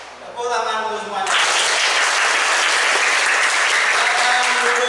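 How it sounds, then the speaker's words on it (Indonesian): A classroom of students bursts into loud, dense hand clapping that starts after about a second and carries on strongly to the end, right after a voice speaks over a tonal sound. "Tepuk tangan dulu semuanya."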